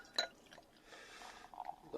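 Kystin chestnut cider pours into a glass in a short, close splash and trickle, preceded by a brief clink, quiet and alone without talk.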